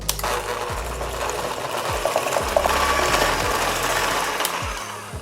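Electric mixer beating brownie batter with eggs and vanilla, a steady whirring motor with repeated dips and surges in pitch as the beaters work through the bowl.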